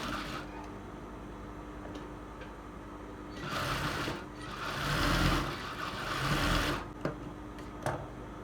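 Sewing machine running stitches along a folded lining strip for a blouse: a steady close mechanical whir with a faint ticking rhythm, rising to louder fast bursts of stitching in the middle before easing off, no voices.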